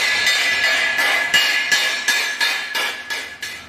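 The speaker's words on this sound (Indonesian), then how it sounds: "Kita akan palu agar rapi, terlihat rapi." A welded metal joint is struck with a hammer in a workshop, giving about ten sharp, ringing metallic blows at a steady rhythm. Each strike rings on briefly before the next.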